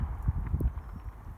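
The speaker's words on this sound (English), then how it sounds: "There's all the cows running." Cattle running in a herd after a quarry blast, heard as a low, irregular drumming of heavy hooves on the ground, close and steady, with no voices.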